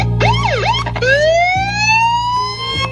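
An ambulance siren wails loud and close, rising and falling, then shifts into a long rising tone over a low engine rumble.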